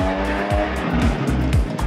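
A Badger backpack leaf blower runs close and loud. Its gas engine drones continuously, with rapid pitch dips that repeat roughly every quarter second.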